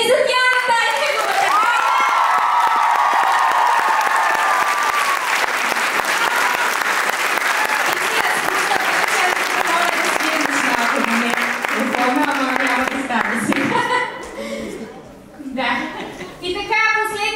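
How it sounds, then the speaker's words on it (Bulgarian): Loud, sustained applause from a live audience at a street dance show, cheering for dancer Diana Taycheva. Dense clapping fills the whole stretch with scattered shouts, then thins near the end. "Аплодисменти за Диана Тайчева!"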